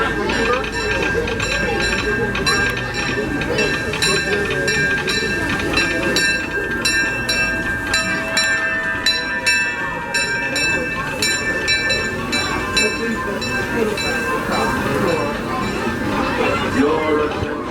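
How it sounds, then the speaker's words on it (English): A Disneyland Railroad steam train with the C.K. Holliday No. 1 locomotive sits at a station amid steady rail and mechanical noise, a continuous loud bed with faint hissing and ringing tones, while a public-address voice speaks over it. "Disneyland Railroad, now arriving on the trip around Walt Disney Magic Kingdom."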